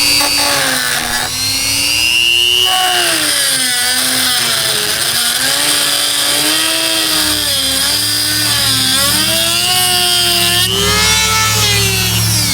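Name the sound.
power tool cutting a relief notch in an aluminum wiper arm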